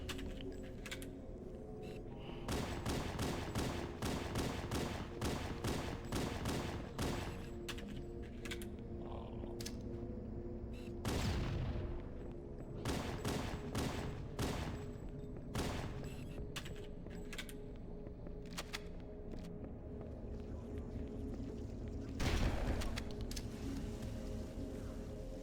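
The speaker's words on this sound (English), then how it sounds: "You can see how nice and satisfying it is just using one of the plasmas to clear out all the infection forms." Rapid bursts of plasma weapon fire against Flood infection forms in Halo: Combat Evolved, dense repeated crackling shots in several volleys separated by short lulls, heard at low level over a faint game hum.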